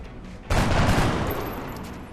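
A single loud gunshot in XCOM: Enemy Unknown cracks suddenly, then a long, roaring blast tail and echo slowly fade out.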